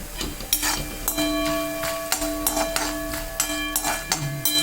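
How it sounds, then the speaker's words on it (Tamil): Peanuts frying in a pan while mango rice is made: a steady background sizzle broken by repeated sharp clinks of a utensil scraping and tapping against the metal pan. "இப்போ கடலையை போட்டுக்குவோம் இதோட வெந்தால் தான் நல்லாயிருக்கும்"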